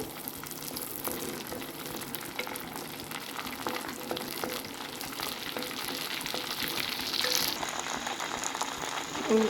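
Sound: green chillies and curry leaves frying in oil

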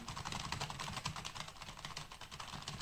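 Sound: typing on a keyboard connected to a Samsung Galaxy Tab A7

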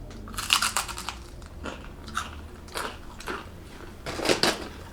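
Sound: biting crunchy IKEA snack

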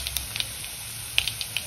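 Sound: cumin and chili tempering sizzling in oil

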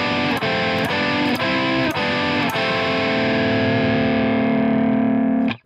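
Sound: distorted guitar folk metal riff in thirds

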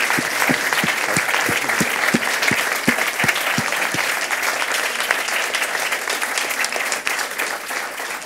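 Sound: long audience applause after a lecture

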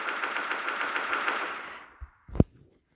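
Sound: gun being reloaded in a video game

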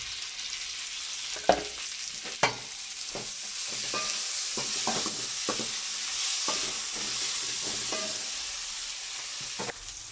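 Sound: tomato and green chilies frying with golden-brown onion

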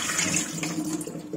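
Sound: pouring water off strawberries

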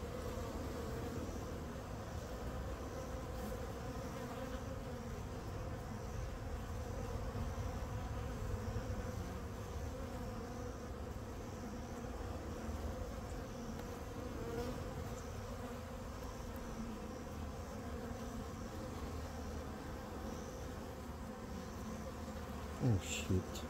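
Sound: honey bees buzzing at an open hive

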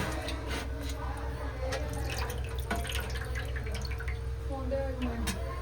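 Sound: hot water washing an air fryer basket

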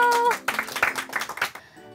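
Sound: applause, clapping

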